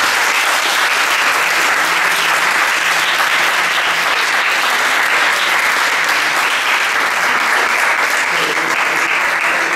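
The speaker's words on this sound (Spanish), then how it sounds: "Un aplauso, por favor." Loud, sustained audience applause at the close of a panel discussion on the Chilean health system, thick even clapping that fills the full ten seconds with no break.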